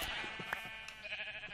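Sheep in a block-building video game bleat a few times in quick succession, close and clear over a steady bright background hum, with no talking.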